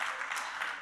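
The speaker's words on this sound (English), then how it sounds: "Can we clap for her again?" A brief burst of audience applause for a speaker at a real estate conference session, a soft continuous wash of many hands clapping at a moderate distance.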